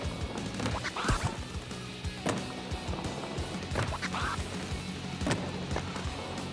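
Ducks quack a few times in the Tony Hawk's Pro Skater 3+4 video game, their calls short and spread out over busy skating clatter and crashes, all fairly quiet.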